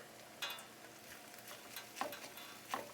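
Hash brown haystacks fry over medium heat in a pan with a faint, steady sizzle, broken by a few soft taps and scrapes.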